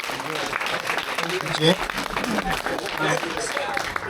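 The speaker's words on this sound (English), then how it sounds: "Ladies and gentlemen, a round of applause for David." An audience at a Leyland P76 Owners Club car event in Grenfell, New South Wales, claps in a loose, moderate round of applause, with voices talking over it outdoors.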